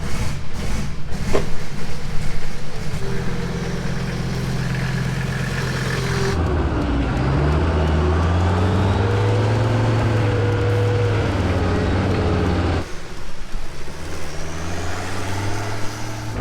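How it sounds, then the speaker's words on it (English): A diesel-swapped off-road Mini Cooper on a test drive gives a loud rough engine drone that rises and shifts through gears, close and sustained, with road rumble and no talking. "we're gonna take it for a test drive and actually see what this thing can do"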